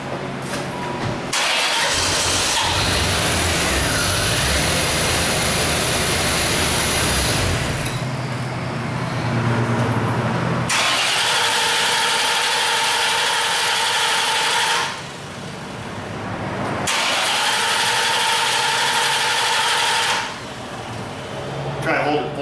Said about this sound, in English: So I say we crank it over now and see what happens, see how it starts